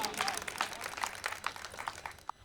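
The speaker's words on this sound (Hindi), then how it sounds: "जोरदार तालियां बजा दिए" Audience applause at a Holi comedy kavi sammelan, a steady patter of many hands clapping at moderate volume, without speech.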